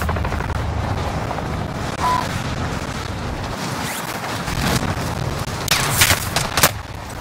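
Gunfire in a video game, with scattered rapid shots and bursts crackling over a busy, noisy background; the shots are mostly mid-distance, with a couple of louder bursts near the end.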